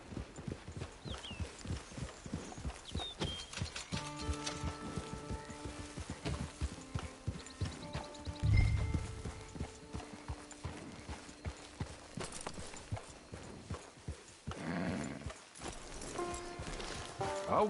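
Horse hooves in Red Dead Redemption 2 clip-clop at a steady trotting rhythm, fairly close, over soft sustained musical tones.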